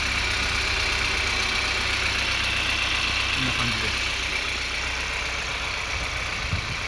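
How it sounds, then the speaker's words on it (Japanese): A Honda S2000 Type S (AP2) with about 36,900 km and many ASM parts idles at a steady, even rumble throughout, close and constant, with someone speaking briefly over it. "ではエンジンかけてみたいと思います。 はい、エンジンかけてみました。"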